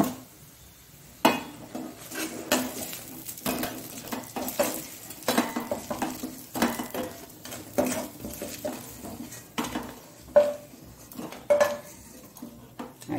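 Mangalore-style menthi pathrode with moong dal is scraped out of a frying pan onto a plate: repeated close metal-on-metal scrapes, spoon clinks and soft knocks of cookware, irregular and moderately loud, with a faint sizzle underneath and no talking.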